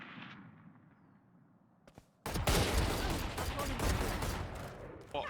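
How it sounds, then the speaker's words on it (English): In the video game Battlefield, after a quiet stretch with a few sharp cracks, a sudden loud burst of rapid gunfire and blasts erupts and continues in a dense, chaotic barrage. "it just made the game feel more alive, and the gunshots and explosions more realistic sounding"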